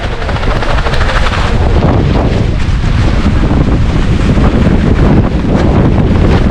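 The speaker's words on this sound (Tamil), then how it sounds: "காற்று செம்ம ஹெவியாக அடிக்குது." Heavy wind in the hills of Chikmagalur roars continuously and loudly against the microphone, a dense, unbroken buffeting rush throughout.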